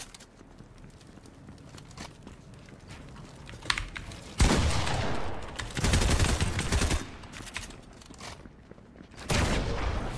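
Video game gunfire comes in loud bursts of rapid shots, a couple of brief rattling volleys separated by quieter stretches with faint clicks and movement sounds, no talking.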